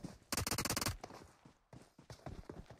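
Automatic gunfire in the mobile shooter PUBG Mobile, a loud burst of about a dozen rapid shots followed by scattered, quieter shots and game noise, without talk.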